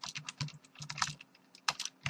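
Rapid typing on a computer keyboard while working in a website admin panel, with irregular bursts of close, crisp key clicks and brief pauses between runs, no speech.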